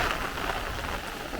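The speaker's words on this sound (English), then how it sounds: "I haven't seen any lightning or thunder, just a lot of rain and a lot of wind" Heavy rain pours down in a thunderstorm squall line in Brooklyn, New York, with gusty wind: a dense, even hiss of downpour close by, no thunder or voices.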